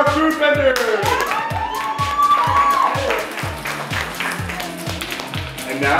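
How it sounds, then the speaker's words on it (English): Audience at a boxing event claps in a steady burst of applause, crowd noise rising and falling with some overlapping announcer-style voices and musical tones. "let's hear a big round of applause for our food vendors!"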